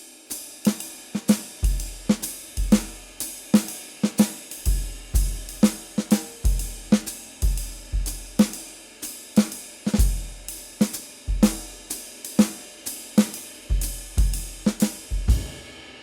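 A drum kit comps in a swinging jazz style, snare and cymbal hits mixing with booming bass drum accents, close and lively.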